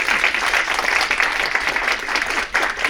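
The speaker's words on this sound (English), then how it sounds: "applause for our lion dancer and our leadership" A crowd at a Lunar New Year celebration applauds a lion dancer and community leaders with continuous, fairly dense clapping that holds steady for a few seconds and dips briefly near the end.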